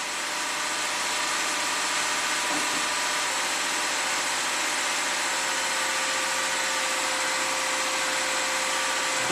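A 2015 Lexus IS250 V6 holds a steady, unusually high idle, its engine hum droning evenly and continuously with a broad hiss over it and no one speaking.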